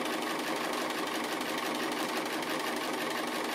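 Sewing machine stitching a dog applique on fabric, a steady, continuous mechanical whir at close range with no pauses.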